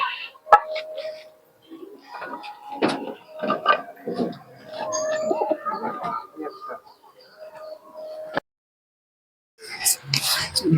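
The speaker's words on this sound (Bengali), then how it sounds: "এই একটি গিরিবাজ কবুতর দেখুন" Giribaz pigeons from Murshidabad, including a male, coo in soft repeated bursts close by, mixed with rustling and wing noises, with a brief quiet gap before sharper activity near the end.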